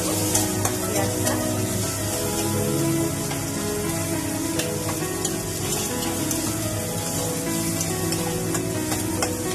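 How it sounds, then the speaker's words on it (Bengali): Onion fries in oil with dried red chilli and nigella seeds in a pan for a fish and brinjal chochchori, a loud constant sizzle with crisp crackles and faint tonal hum underneath. "ভাজা করে দেবো পেঁয়াজটা।"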